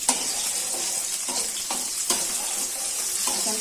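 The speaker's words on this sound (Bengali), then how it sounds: "আগে থেকে কুচি করা পেঁয়াজগুলো দিয়ে দিচ্ছি তেলের মধ্যে।" Chopped onions sizzle steadily in hot oil in a pan, a bright, continuous frying hiss broken by a few soft clinks and scrapes of stirring, close and clear.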